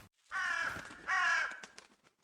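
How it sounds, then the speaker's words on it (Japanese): A crow caws in the horror video game Bleeding Roots: two loud, harsh, drawn-out caws close together, followed by faint scratchy rustling in otherwise quiet surroundings. "さっきから泣いてたカラスはそこにいたんだ。"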